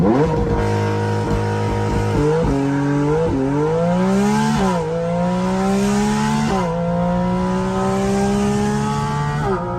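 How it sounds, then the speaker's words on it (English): A loud Porsche GT4 RS engine revs hard, its pitch climbing repeatedly as it shifts up through the gears with a raspy, racing tone. "Listen to the sound of this car."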